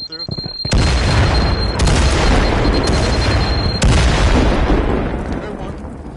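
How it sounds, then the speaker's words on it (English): Grenade blasts in a competitive team shooter match, several loud booming explosions in quick succession, each with a sharp onset and a long rumbling decay, while players talk over them. "Oh, grenades coming through."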